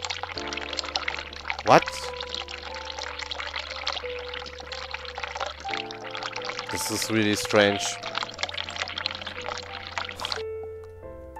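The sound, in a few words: water running from a tap in video game The Cat Lady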